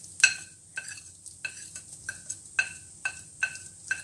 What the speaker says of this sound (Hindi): अब मैं तेल में हल्दी डाल रही हूँ